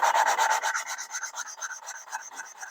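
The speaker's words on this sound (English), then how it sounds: "lapping the valves in real quick" Rapid rhythmic gritty rubbing of valves being lapped with grinding compound in a 1978 MGB cylinder head, a steady back-and-forth scraping that starts louder and gradually softens, heard close with no voices.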